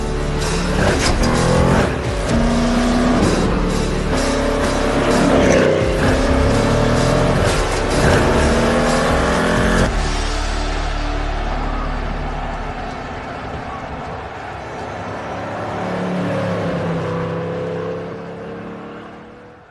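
A Mercedes-Benz 300 SEL with a 6.8-litre V8, 420 horsepower and a six-speed manual, giving a loud engine roar with shifting revs that eases into a quieter, fading rumble toward the end.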